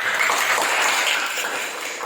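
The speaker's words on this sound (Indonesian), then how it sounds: "Tepuk tangan untuk kelompok 3." A classroom of students claps for a presenting group, a short burst of dense applause that stays steady and then tapers slightly.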